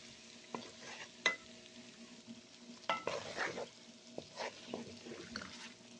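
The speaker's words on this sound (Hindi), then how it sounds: "जो मसाला लगा के हमने अंडे रखे हुए वो इसमें डाल के और इनको भी 5 से 6 मिनट तक फ्राई कर लेंगे" Masala-coated eggs frying in oil for an egg and potato curry, a faint soft sizzle with scattered spatters and a couple of louder spoon clatters as they are turned.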